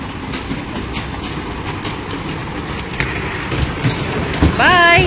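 An amusement-ride toy train runs at a play area in Krishnagiri, with a rhythmic rolling clatter close by and a brief squeal toward the end, while voices murmur in the background.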